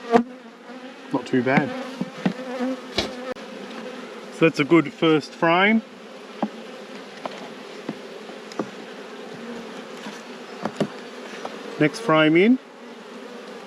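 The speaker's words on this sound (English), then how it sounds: "Good coverage of bees, plenty of nectar" Honey bees hum in a steady drone throughout a beehive inspection, with nectar-filled frames lifted out. Someone talks over the buzzing, and a few sharper, louder buzzes flare up close by now and then.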